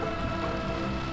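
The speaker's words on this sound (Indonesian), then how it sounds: "Ini hujan" Steady rain drumming on an L300 van while driving, a dense continuous wash of drops on the body and glass, close and constant with no talk.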